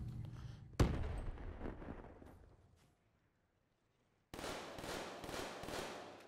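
Bursts of automatic gunfire from a Black Ops 3 multiplayer match, a sharp loud onset that decays, a pause of near silence, then a dense rapid rattle of shots to the end.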